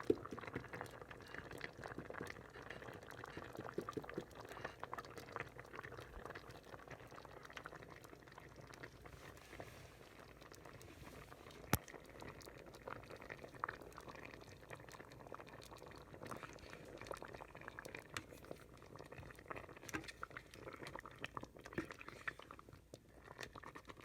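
Pork porridge bubbling in a rice cooker, a soft continuous simmer of small pops and gurgles, quiet and close, with no voices over it.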